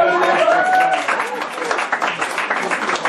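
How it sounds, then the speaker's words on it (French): A congregation claps during a French-language church sermon, a loose spread of applause with some voices over it at the start, thinning into scattered claps. "Regardez, il fait ça bien, on peut l'applaudir."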